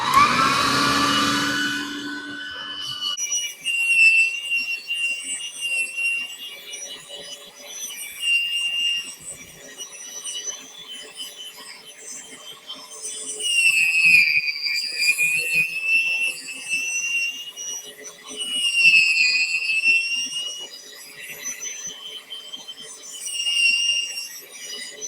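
An electric meat grinder runs steadily while venison and fat are fed through for sausage, a sustained mechanical whine with rising and falling strain as chunks pass, close and fairly loud, with no talking.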